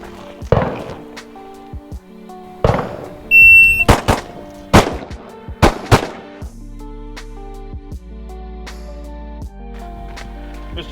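Two sharp handgun shots ring out from the ready position on a shooting range, each a loud crack with a short echo. Other loud gunshots and a steady electronic beep from the range timer are heard nearby.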